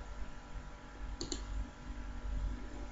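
Two quick, faint mouse clicks sound close together against a steady low background hiss while adjusting scan settings in Photoshop.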